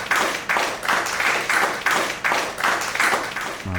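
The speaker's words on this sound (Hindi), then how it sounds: "तालियां बजाओ सारे।" Office staff clap together in a steady rhythmic beat, about two claps a second, loud and close, with no talking over it.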